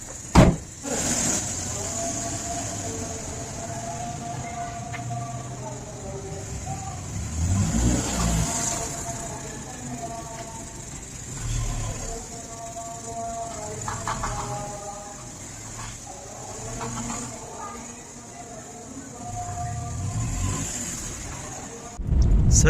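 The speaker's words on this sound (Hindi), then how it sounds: "अब गाड़ी गर्म करने लगे हैं ठंडी हुई पड़ी है गाड़ी" A cold car engine warming up on a freezing winter day, a steady mid-pitched hum with occasional revving swells, heard close with people talking over it throughout.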